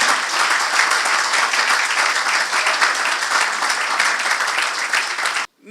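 Sustained applause from an audience honoring Men's Health Champion honorees at a men's health summit, a dense steady wash of clapping that holds loud for over five seconds before cutting off abruptly.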